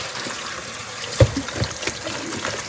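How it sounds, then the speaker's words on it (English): Cold tap water runs and splashes over raw meat being rinsed in a kitchen sink, a steady trickle broken by a few louder splashes and drips as the meat is handled. "Yep, so I rinse it off."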